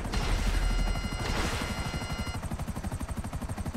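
A helicopter's rotor thumps in a fast, steady pulse, loud and close, with a brief burst of noise near the start, in the video game GTA 5 Online.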